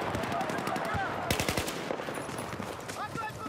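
Sustained automatic fire from an AUG A3 rifle in the multiplayer shooter Battlefield 4, a rapid rattling burst of close shots with heavier cracks in the middle, under other battlefield noise.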